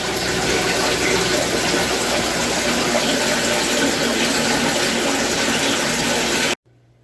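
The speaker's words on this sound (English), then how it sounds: "I have a pump that I got off of eBay and some hose" Pump pushing aquarium water through a hose during a water change, a loud continuous gushing rush that cuts off abruptly near the end, leaving quiet.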